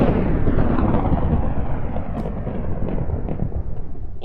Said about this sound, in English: Was that like 2 lightning strikes at the same time?